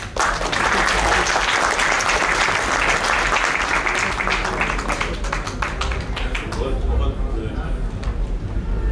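An audience at an international mushaira and kavi sammelan in Bahrain gives poet Qasim Khurshid a welcoming round of applause, a dense, loud burst of clapping that thins into scattered claps, with a voice speaking over it.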